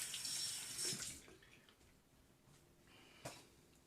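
Water splashes and trickles as it is added to Proraso Green shaving lather, a broadband wet rush in the first second and a half, then quieter dabbing and one short splash near the end, with no talking.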